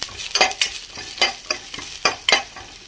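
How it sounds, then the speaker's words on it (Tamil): Onions toasting with ginger and garlic in a pan for paneer butter masala, a steady frying hiss broken by repeated scraping stir strokes roughly every half second, close and moderately loud with no talk. "இஞ்சி பூண்டு எல்லாம் போட்டு இந்த மாதிரி வெங்காயம் டோஸ்ட் ஆகணும்"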